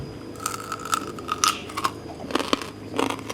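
Someone eating Mon-style curry with elephant apple and pork ribs bites into something crunchy from a spoon, giving several loud, close, crisp crunches in an uneven rhythm.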